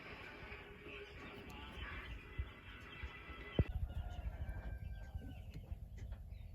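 Broiler chickens cluck faintly in a quiet setting, with a sharp knock partway through and scattered soft bird calls afterward.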